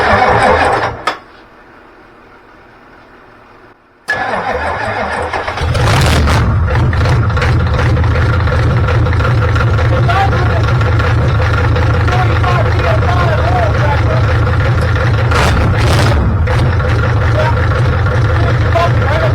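Ford 7.3 IDI diesel engine cranking briefly, then firing up into a loud, steady rough idle close by, with people talking over it.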